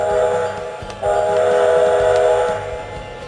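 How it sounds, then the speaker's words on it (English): A Lionel O gauge Strasburg Railroad 90 model train's steam-style whistle sounds in sustained, chord-like blasts over a rhythmic mechanical chuffing and clanking. "this model has a nice whistle very similar to 90s rather than using a stock generic whistle"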